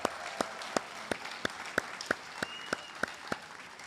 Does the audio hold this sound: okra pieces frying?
no